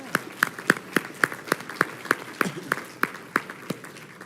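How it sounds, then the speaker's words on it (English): An audience applauds for Congressman Tony Coelho at a talk on building a movement for wellbeing: sparse, evenly spaced individual claps ring out one by one over a quiet room, crisp and moderately near. "Give a round of applause to Tony Coelho."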